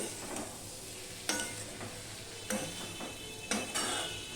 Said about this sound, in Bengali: এবার দুই থেকে তিন মিনিট আমি আবারও ভেজে নেব টমেটোটাও নরম হবে